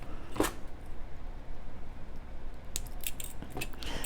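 Scissors trim a small piece of leather during jewelry making, with one sharp snip near the start and a few quieter clicks and snips later over soft handling noise, close up and with no talking.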